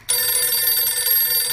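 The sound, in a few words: telephone ringing in radio drama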